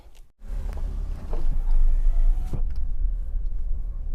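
A white Suzuki R3 GX manual car rumbles steadily at close range, with a low, constant engine-like drone and a couple of sharp thuds near the start and middle.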